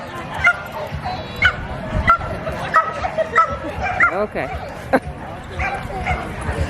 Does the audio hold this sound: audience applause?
no